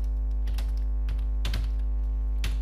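Keys on a computer keyboard tapped during HTML coding, a few sparse, soft clicks spread over a couple of seconds over a steady low electrical hum.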